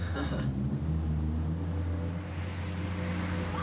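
A truck engine idles and revs nearby as the vehicle is brought up, a steady low rumble with a brief louder burst at the start.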